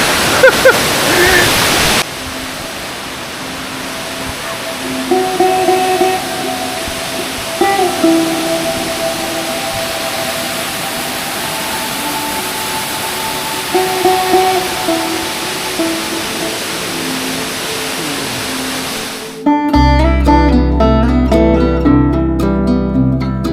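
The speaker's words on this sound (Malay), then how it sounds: "air terjun di Lata Kinjang di antara salah satu air terjun tertinggi di Asia Tenggara setinggi 850 meter" Lata Kinjang waterfall in Malaysia, 850 meters high, gives a steady broadband roar of falling water that holds throughout, with faint voices and tones over it before music cuts in near the end.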